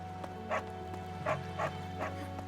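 A dog barking in Fire Emblem Three Houses, about five short soft yips spaced across the clip over steady game music, with no talk.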